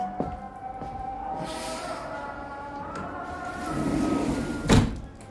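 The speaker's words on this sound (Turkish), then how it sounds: "Kapıyı kapatalım." A hotel room door in Izmir is pushed shut with a rolling slide and ends in a sharp close near the end, heard close up in a quiet room.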